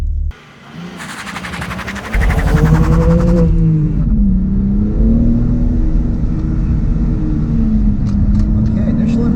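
A 2021 BMW M3 is driven hard around an autocross course, its engine building into a loud, sustained rising and falling drone as it accelerates and turns, heard from close by and mostly on its own.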